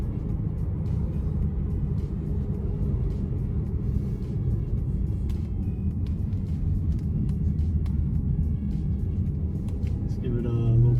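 A Dodge Challenger R/T, a big long-hooded car, pulls with a low, steady engine rumble that holds for several seconds and swells slightly near the end.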